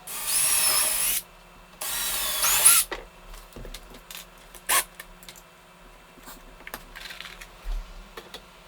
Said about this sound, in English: square up your 1x4 with the top one, and screw in pilot holes